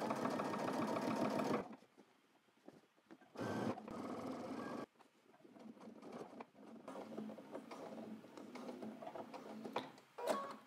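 Sewing machine stitching a trench coat, its fast mechanical whir running in short bursts that stop and start between quieter handling noises, fairly near and moderate in level.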